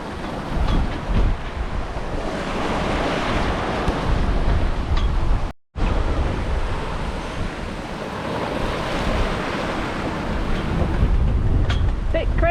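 Wind and choppy, sloshing sea rush steadily around a sailboat under windvane steering in rough conditions between Caribbean islands near Montserrat; a loud continuous roar, broken by one brief dropout midway.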